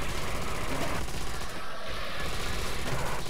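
An MG42 machine gun fires on and on in Call of Duty Zombies, a dense, close rattle of rapid shots sustained almost without a break.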